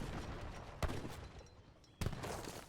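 Two sharp gunshot cracks from an Age of Empires III match, about a second apart, each with a short decaying tail over a dense battle background.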